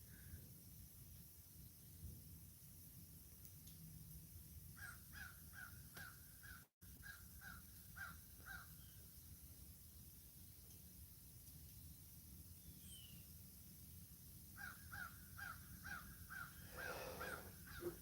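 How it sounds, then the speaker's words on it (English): A couple of crows flying over countryside, giving two bursts of rapid caws, moderately distant, over a steady hiss of wind and background noise with no talking. "goes a couple crows flying"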